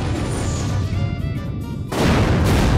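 A bomb-carrying enemy explodes in the video game Sakura Wars V, a loud booming blast that cuts in sharply near the end, following a stretch of rumbling game sound effects, with no talking.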